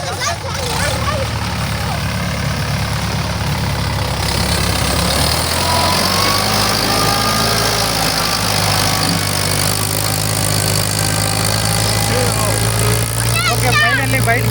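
A tractor loaded with grain pulls out of a deep, muddy field, its engine droning low and steady, rising in strain partway through, while people talk loudly over it.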